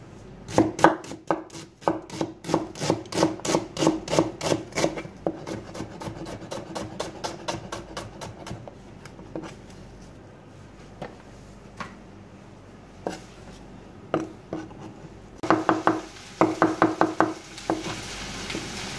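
A knife chops onion on a cutting board in quick, rhythmic strokes, then slows to scattered cuts and finishes with a brisk final burst, all close and crisp with no talking.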